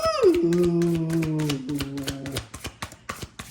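A deck of tarot cards is shuffled in a run of quick, crisp clicks and flutters, preceded by a brief gliding vocal sound at the start.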